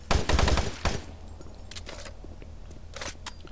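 Rapid bursts of gunfire from Doom 3 crackle loudly in the first second, with one more shot just after. Quieter game noise and ambience follow.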